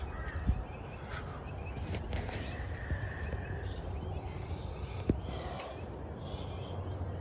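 Scattered bird calls and caws sound from a distance at dawn in Australia over quiet outdoor background noise, with a couple of sharp knocks.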